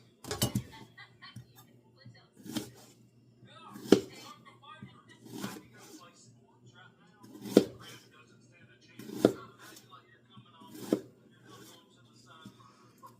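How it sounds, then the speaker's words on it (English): A knife chopping an onion on a board in a home kitchen, with about ten evenly spaced, fairly sharp strikes a second or so apart, near and clear against a quiet background. "I'm gonna chop up the rest of this onion"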